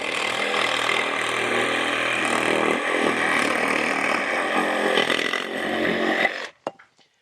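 A 1x4 wooden board being cut with a power saw during a repair in a 1988 Palm Harbor singlewide mobile home, a loud continuous whining cut lasting several seconds before stopping abruptly with a couple of clattering knocks.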